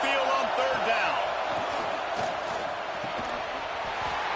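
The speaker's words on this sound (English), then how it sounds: "Here comes this home crowd as the defense tries to get off the field on third down." A home stadium crowd roars steadily in a college football video game, Nevada Wolf Pack at USC Trojans, as the defense faces third down; dense, continuous crowd noise fills the whole stretch with broadband swelling cheers.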